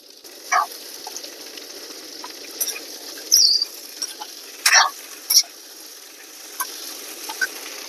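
Potatoes, onion and green chilli frying together in a pan for bhujiya: a steady soft sizzle with a few sharp spatula scrapes and clicks against the pan, heard alone with no talking.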